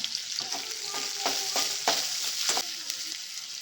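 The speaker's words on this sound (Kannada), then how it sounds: "ಈರುಳ್ಳಿ ಸ್ವಲ್ಪ ಕೆಂಪು ಫ್ರೈ ಮಾಡ್ಕೊಳ್ಳೋಣ" Onions fry in oil with cumin in a pan, cooking toward a drumstick, potato and brinjal gravy. A steady close sizzle carries through, broken by a series of scraping stirs from a spoon.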